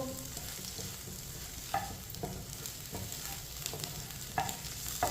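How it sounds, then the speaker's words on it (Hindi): Eggs frying in a pan while a spoon stirs them, giving a soft, continuous sizzle with several sharper scrapes and taps of the spoon against the pan at irregular intervals. "चम्मच चलाते हुए। एक मिनट के लिए पका लिया अंडों को।"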